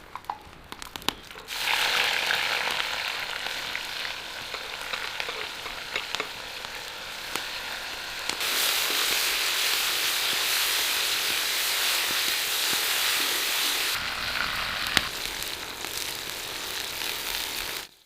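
Onions fry in a pot for Uzbek plov, giving off a steady, even sizzle that continues alone without pause after a brief clatter at the start.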